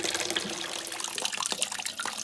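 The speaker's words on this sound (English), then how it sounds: "all this water you're washing your hands with is going down in the toilet tank" Hand-washing water steadily trickles and splashes as it drains into a gravity-fed toilet tank, a continuous close-up liquid rush with no voices.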